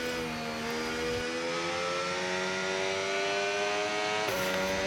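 A race car engine at Monza runs steadily and loudly close by as the car rolls onto the starting grid, its even harmonic drone dipping briefly near the end before settling again.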